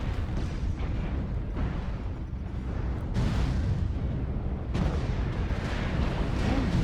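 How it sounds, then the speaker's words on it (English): Incoming missiles striking a mech in MechWarrior Online, heavy rumbling blasts that swell into a continuous roar, with fresh impacts landing around the three- and five-second marks. "Incoming missile."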